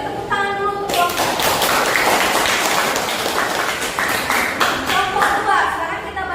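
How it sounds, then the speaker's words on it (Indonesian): Classroom applause for a student group, a dense burst of clapping hands that runs steadily through the whole stretch at fairly close range, with a tonal chime or bell at the start and a few lighter taps near the end. "Tepuk tangan dulu untuk kelompok"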